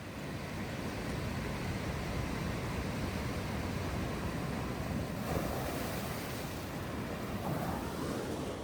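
Ocean waves crashing on a beach in Siargao, a loud continuous roar of surf with wind, rising in washes without any talk.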